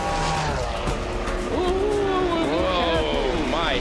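Race car on a circuit during a 24-hour endurance race, its tyres worn, running loud and steady with a rising and falling engine pitch beneath a constant roar of track noise.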